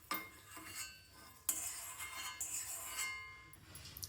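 Raisins are stirred in ghee in a pan for Kerala payasam, with sharp metallic clinks and scrapes of a spoon against the pan coming at irregular intervals, close but fairly quiet.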